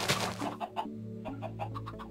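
A chicken in the Minecraft video game clucks in a quick series of short, bright calls, fairly close and clear, with faint game ambience beneath.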